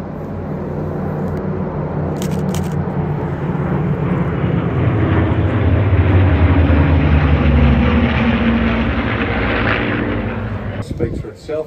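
Aircraft passing over at the Temora Warbirds airshow, with a loud engine roar that builds and holds close overhead before fading; people's voices are faint beneath it.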